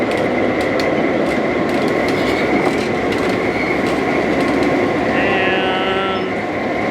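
A freight train with a caboose rolls past in a steady, loud rumble of wheels and cars, with sharp clanks and a high screech of wheels toward the end.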